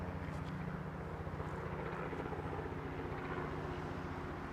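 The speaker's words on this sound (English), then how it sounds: "Very scary copter." A helicopter flies near Heathrow Airport, its rotor giving a steady, close, pulsing drone that stays loud and even throughout, with no voices.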